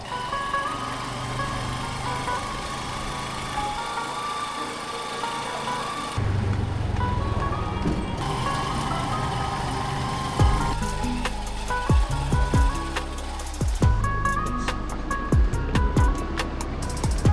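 Tricycle ride through traffic on C5 in Taguig, with a steady loud engine drone, shifting road noise and passing vehicles close by, and sharp rattling clicks and bumps toward the end.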